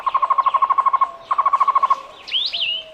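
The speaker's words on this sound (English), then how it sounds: "The Cuban Trogon is a medium-sized bird often found in pairs. Its song sounds like its Spanish name, Tocororo." A Cuban trogon sings two runs of rapid, evenly pulsed hooting notes, loud and clear against a quiet background, followed by a rising and falling whistled call.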